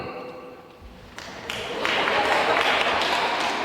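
A forum audience in Lviv starts clapping after a quiet moment with some talk. The applause swells into a dense, sustained patter of many hands.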